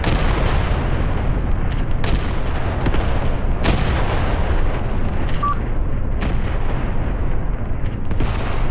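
Several sharp, heavy reports from an 88 mm gun in the Graviteam Tactics war game punch through a constant rumbling battlefield din, spaced a couple of seconds apart.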